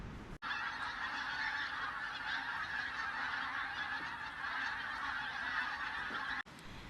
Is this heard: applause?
no